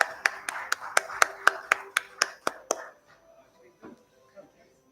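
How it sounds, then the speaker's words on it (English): Audience applause at a formal ceremony, a dozen distinct sharp claps in a steady rhythm that fade out after about three seconds, leaving faint scattered taps. "Ladies and gentlemen, a big round of applause one more time for Ms. Engstrom."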